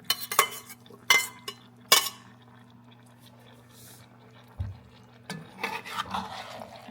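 Cooked boiled potatoes stirred into simmered mushrooms, onions and carrots in a pot, with a few sharp utensil scrapes and clinks against the pot, then softer wet mixing sounds, fairly close with a steady low hum underneath.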